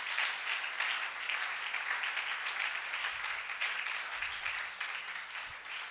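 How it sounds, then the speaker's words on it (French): An audience at an evening religious gathering applauds in a dense, sustained wave of clapping that stays fairly even for several seconds, heard from a moderate distance, with a few faint low thumps underneath. "On va acclamer, acclame."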